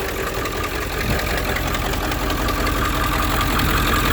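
A stock truck engine with factory intake and downpipe idles steadily and loudly nearby, likened to a school bus, its low rumble and knock-like clatter continuous and even throughout.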